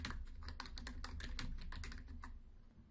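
Quiet, quick keystrokes clatter on a regular computer keyboard in an irregular burst that slows and stops toward the end, with a low hum beneath.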